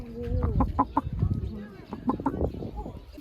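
A chicken clucks nearby at a campsite in a rapid run of short, repeated clucks that rise and fall over several seconds, with a person's voice mixed in.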